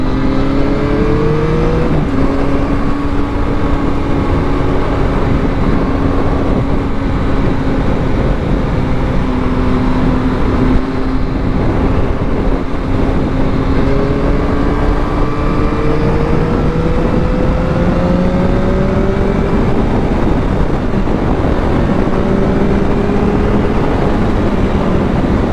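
A Yamaha MT-09 inline-three motorcycle on a test ride drones steadily at loud volume, its engine note rising and falling through gear changes for the whole stretch, with no talk.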